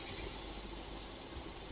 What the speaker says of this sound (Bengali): এদিকে বেগুনগুলো আমি এক এক করে ভেজে নিচ্ছি